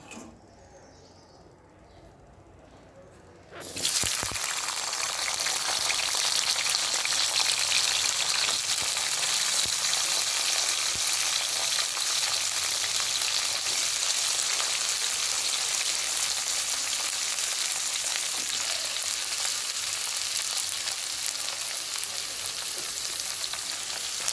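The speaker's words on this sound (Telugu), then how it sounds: "అందులో ముందుగా కట్ చేసి పెట్టుకున్న వంకాయలను అయితే వేసుకోవాలి" Cut brinjal pieces hit hot oil for a fried eggplant dish: after a few quiet seconds a sudden loud sizzle bursts in and then roars on steadily and densely, close by, with no talking.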